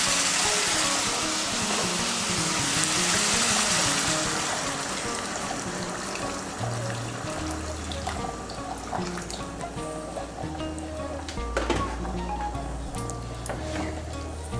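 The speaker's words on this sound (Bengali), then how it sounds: "এখন আমি এর মধ্যে দিয়ে দেব জল।" Two cups of hot water poured into a potato and cauliflower curry (fulkopir dalna), a steady splashing pour that settles into bubbling and trickling, followed by a low hum, with no talk.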